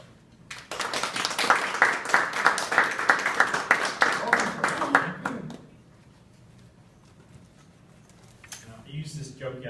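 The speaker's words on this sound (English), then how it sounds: "It's always a hazard when people clap before you say anything." A lecture audience applauds to welcome a speaker on World War I American volunteers, a dense, steady burst of clapping that lasts about five seconds before dying away into room quiet and the start of talk.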